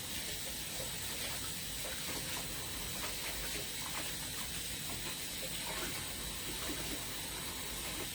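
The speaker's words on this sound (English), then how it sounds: "I just use Dawn dishwashing liquid to wash my hands." Hands are washed under a kitchen tap with Dawn dishwashing liquid, the running water a steady, soft hiss and gush that stays even throughout with no one speaking.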